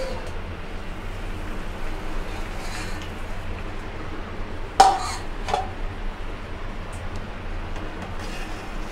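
A lid set onto a pot of fish curry cooking with potatoes and pointed gourd: one sharp metallic clink stands out midway, with a softer knock just after, over a steady low hum of kitchen background.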